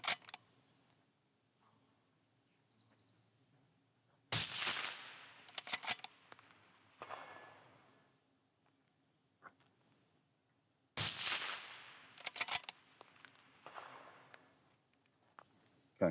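Two loud, sharp rifle shots fired from tack tables rested on shooting bags, each a sudden crack followed by a short burst of rattling and echo, with quiet gaps in between.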